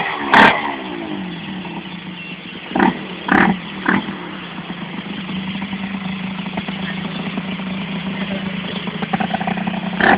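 Vehicle engine on a mechanic's test drive, running with a reported shake: a loud, steady engine drone with a few sharp knocks and thumps standing out above it.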